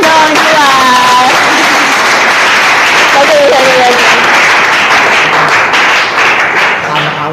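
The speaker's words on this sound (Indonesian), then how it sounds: "Beri tepuk tangan dong Juan." A classroom of students applauds loudly, with dense clapping throughout and voices and cheers mixed in.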